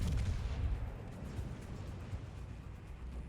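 World of Warships Bismarck German battleship's secondary guns firing, a dense rumbling barrage of overlapping booms that is loudest at the start and then settles into a steady, heavy roar.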